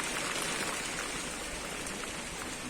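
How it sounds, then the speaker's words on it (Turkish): A heavy rain downpour hisses steadily and evenly, a dense wash of falling water at moderate loudness with no voices. "3 dakika bir sağanak boşalttı."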